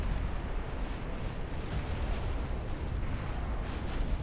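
Enemy warship guns fire in the Ultimate Admiral: Dreadnoughts naval video game. The sound is a continuous, fairly quiet rumble of distant artillery and explosions, with a few slightly stronger booms near the end.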